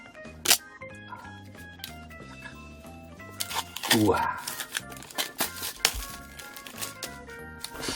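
Plastic wrap is pulled off an AirPods Pro box by its tab, giving sharp crinkling, tearing bursts close to the microphone. Steady background music and a brief exclamation from a voice run underneath.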